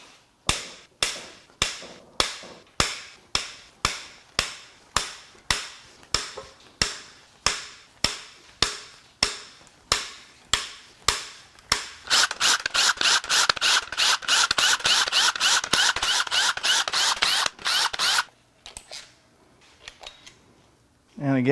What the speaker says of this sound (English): Let's crack the rocker shaft bolts loose.